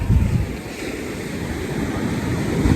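Waves surge and break steadily on a beach where kids are skimboarding, a continuous broadband wash of surf with some wind buffeting the microphone and no talking.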